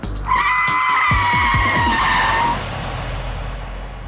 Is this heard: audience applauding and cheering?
no